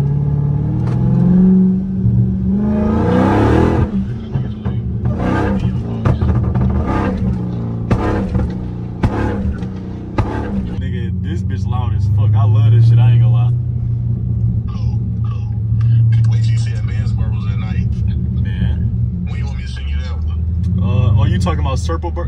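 Chrysler car fitted with a flame tune exhaust, revving hard with a loud, deep rumbling burble that rises and falls close by, with someone talking over it.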